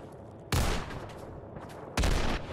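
Two loud, close bursts of gunfire ring out in the video game Fallout 4 while a player wears power armor in survival mode, each a sharp blast that fades over about a second.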